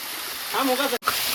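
A waterfall in Tripura rushes with a steady, close hiss while a person's voice briefly speaks over it, followed by a momentary cut before the water noise resumes.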